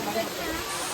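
Water rushes down at the Akash Ganga falls in Tirumala, a constant close hissing roar of cascading spray, with a voice speaking briefly over it.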